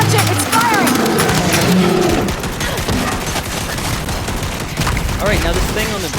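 Weapons firing in the shooter game Gears 5, rapid loud bursts of gunfire with booms, mixed with other game sounds under a player's excited talk.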